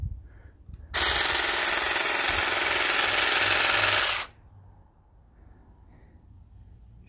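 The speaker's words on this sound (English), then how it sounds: "It's trimming the grass like there is no tomorrow." Einhell GE-CG 12 Li cordless grass shears cutting grass, a loud steady buzzing that starts abruptly, runs for about three seconds and then stops, with quiet outdoor background before and after.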